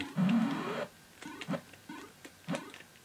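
Synthesized game bleeps from Demon Attack running on a VIC-20: one long warbling burst, then a string of short, evenly spaced chirps at moderate volume with no voices.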